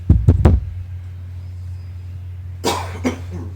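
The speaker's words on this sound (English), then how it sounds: "I have a cough again" Three quick, sharp coughs from one person in rapid succession, close to the microphone over a steady low hum, followed by a rougher throat-clearing cough a couple of seconds later.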